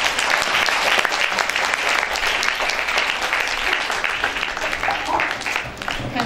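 An audience at a school event applauds to welcome the headmistress, a loud, sustained wash of many hands clapping together for several seconds.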